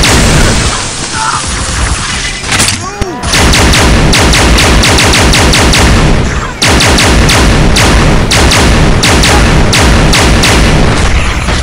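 A grenade goes off in Halo SPV3 with a loud, heavy thump that is surrounded by dense, continuous automatic gunfire and further booms during a firefight.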